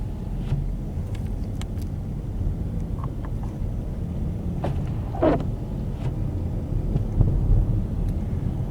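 A car drives on Interstate 70 through a Colorado Rocky Mountain snowstorm toward Denver, with a steady low engine and road rumble throughout and a few louder thumps and bumps. No one talks.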